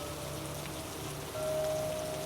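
Steady rain falls on a hard surface, continuous and close, with a faint low hum and a thin sustained tone beneath the patter in a tense, quiet scene.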